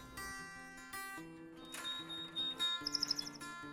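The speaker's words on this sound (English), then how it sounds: "I love the song of the male canary." A male canary, a few days after his chicks hatched, sings indoors in a soft series of bright warbles and tones, ending with a quick run of sharp repeated chirps.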